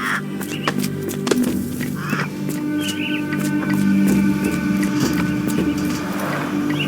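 Caged mynah birds in the Sherlock Holmes The Awakened game give repeated squawks and chirps over a steady low ambient hum, fairly close, with no talking.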